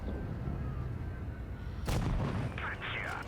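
A tank cannon fires once in World of Tanks Blitz, a sharp, booming shot cutting through a steady engine rumble, followed by a brief echoing tail.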